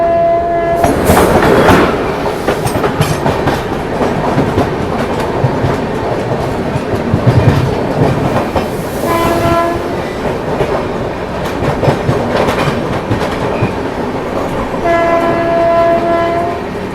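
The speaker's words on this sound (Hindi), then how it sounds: "तो अभी सामने से आ रही है अपनी भुवनेश्वर तेजस राजधानी एक्सप्रेस।" The Bhubaneswar Tejas Rajdhani Express passes close by on an Indian railway line, a loud continuous rumble with rhythmic wheel clatter, and its horn blares several times across the pass.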